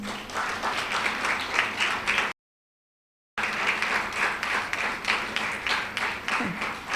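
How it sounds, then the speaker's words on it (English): A convocation audience at an architecture college applauds in a steady, dense wash of clapping, broken by a brief silent gap midway before the applause resumes just as full. "A big round of applause."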